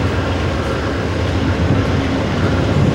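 Amtrak Cardinal passenger train at Indianapolis, Indiana, in 1997, giving a steady, loud, close rumble of rolling wheels and cars that holds unbroken from start to finish, with no talking.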